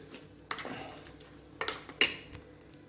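A spoon stirs a thick mixture in a large salad bowl, striking the side in three or four sharp, close clinks separated by brief pauses.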